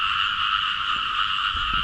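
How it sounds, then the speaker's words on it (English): A dense chorus of many frogs croaks without a break on a night in Langkawi after heavy rain, a loud, near-deafening pulsing drone that fills the air. "every frog and his wife are out. The noise is almost deafening."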